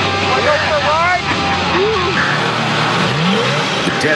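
A car engine drones through a test drive on the road, with tyre and motor noise steady throughout, while excited voices whoop and chatter over it.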